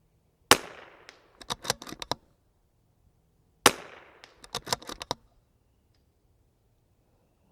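Two sharp, loud rifle shots at an outdoor shooting range, spaced about three seconds apart, each followed by a scatter of quick clicks and clatters from the rifle action.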